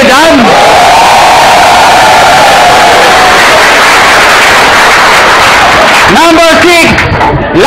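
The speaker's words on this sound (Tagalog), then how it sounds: "Palakpak naman kayo dyan." A crowd at a business opportunity presentation in the Philippines cheers and whoops loudly and continuously, a dense roar with shouted voices rising toward the end.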